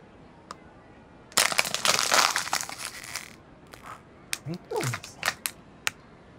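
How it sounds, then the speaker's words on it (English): A plastic water bottle is smashed against a head, giving a loud crunching, crinkling burst followed by several shorter crackles of the crumpled plastic, with a brief voice sound among them. "I don't know why I just smashed this water bottle into my head."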